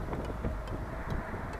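Steady low rumbling wind buffeting the microphone, continuous and fairly loud, with no clear talk.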